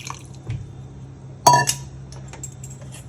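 Cooking water from boiling black rice is poured into mashed rice for a kavuni rice payasam, with a sharp clink of a vessel and a brief splashing pour, then quiet kitchen clatter.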